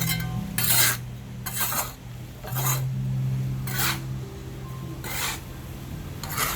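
Wet concrete mix for a breeze block being scraped with a tool in repeated rasping strokes, about six bursts with short pauses, close and fairly loud over a low steady hum.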